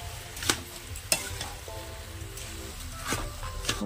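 Olive pickle with jaggery cooking in a pan, a soft steady sizzle with occasional louder scrapes of a spoon against the pan, close and alone.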